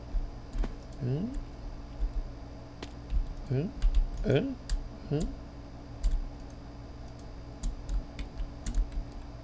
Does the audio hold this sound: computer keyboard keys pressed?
yes